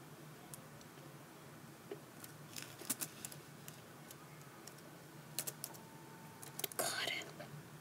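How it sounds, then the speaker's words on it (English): Typing on a computer keyboard while playing Minecraft, a quiet, close run of irregular key clicks that comes in scattered bursts and grows busier near the end, with faint background hiss and no clear talking. "I know I'm typing slow"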